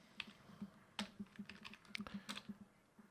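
Quiet, close typing of code on a computer keyboard, rapid irregular key clicks with a few louder strikes, heard alone without talking.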